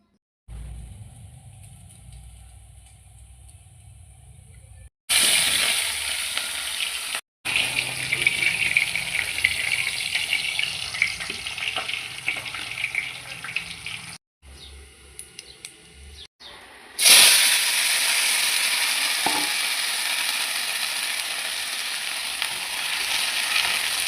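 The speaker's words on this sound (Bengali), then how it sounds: "খিচুড়ির তরকা দিয়ে দিলাম" A tempering of ghee and spices poured over khichdi sizzles loudly in bursts, a bright hissing crackle that cuts in and out with brief quiet gaps.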